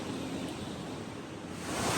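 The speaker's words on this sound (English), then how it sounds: "The sheer amount of water over here is insane coming down from Bridal Veil Falls." Water thunders down Bridal Veil Falls at Niagara Falls in a dense, unbroken roar heard up close, swelling slightly louder toward the end, with no speech.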